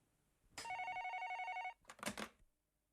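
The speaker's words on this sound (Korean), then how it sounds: "전화 왔다" A telephone rings indoors in a family home, one sustained electronic ring burst followed by a shorter, noisier second burst, fairly close and loud with no talk over it.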